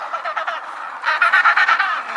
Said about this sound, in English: Penguin.